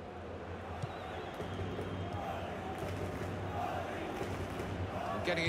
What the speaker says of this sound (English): Crowd settling back down here in the Santiago Bernabeu Stadium.